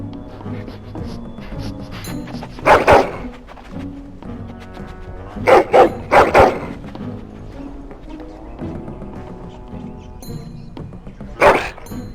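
A hound in Dragon Age: Origins barks in a few sharp bursts, a single bark, then a quick cluster of three, then one more, each standing out over steady background music.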